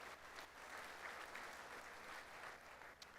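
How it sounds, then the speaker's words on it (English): A breakfast crowd applauds at a sports breakfast, a quiet, distant, continuous wash of clapping that stays even, with a small dip near the end. "Let's give them another round of applause."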